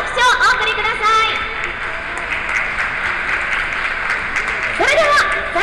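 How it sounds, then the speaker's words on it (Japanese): An audience at a billiards tournament claps for a few seconds before a trick shot, the applause rising between stretches of an announcer's amplified voice. "皆様応援の拍手をお送りください。"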